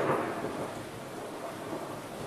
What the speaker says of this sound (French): Je sais pas si vous avez entendu, mais il y a de l'orage chez moi.